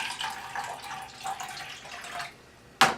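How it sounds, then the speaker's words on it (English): Water pours steadily from a cup onto oats in a container for overnight oatmeal, a continuous splashing trickle that thins out toward the end, followed by a sharp brief clink. "So I put about 1/4 of a cup of water in."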